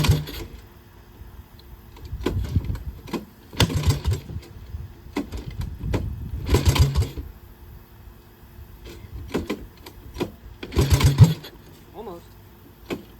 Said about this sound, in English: I'm going to see if I can get it to start without having to have camera girl hold the throttle wide open